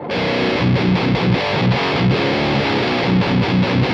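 Heavily distorted electric guitar played through the Aurora DSP Laboga Mr. Hector amp plugin with impulse responses, loud chugging riffs with sustained saturated chords and rhythmic palm-muted bursts, alone with no talking.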